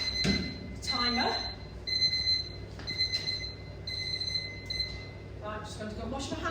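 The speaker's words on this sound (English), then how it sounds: "right, let's switch off the timer." A kitchen timer alarm beeps in repeated high bursts, several evenly spaced sets of shrill beeps in a home kitchen, over background hum with some speech.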